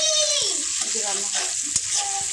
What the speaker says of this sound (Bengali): এখন বাগার করবো